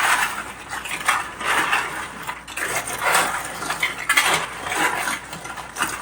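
Dry oven-dried bread for stuffing being crushed by hand, a steady crackling and crunching that comes in repeated soft bursts, close and fairly quiet.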